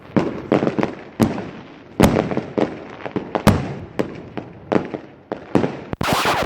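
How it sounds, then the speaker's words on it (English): Loud fireworks sound effect, a rapid irregular series of sharp bangs and crackling pops, each burst trailing off before the next, ending in a dense crackle. "I promised fireworks."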